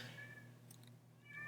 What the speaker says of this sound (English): I don't know if you guys can hear my cat's meowing in the background